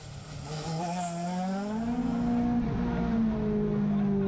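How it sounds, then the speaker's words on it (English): A Ford Escort rally car in Class D1 at Knockhill powers along, its engine note climbing steadily as it accelerates, loud and close throughout with no voices. "Andrew Kirkcaldy was now getting to grips with his Ford Escort as he consolidated second place in Class D1 behind Chris West."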